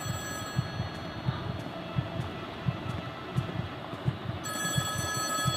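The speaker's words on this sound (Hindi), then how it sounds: "जैसे मैं बाहर निकलता हूँ तो टेलीफोन बजता है।" A telephone rings in the horror video game Trapped, a repeating electronic bell pattern pulsing about every second and a half over a low, droning ambient rumble, with no voices present.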